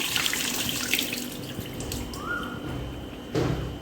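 Mangoes are rinsed under a running kitchen tap, a steady close splashing stream with water breaking over the fruit and a brief louder gush near the end.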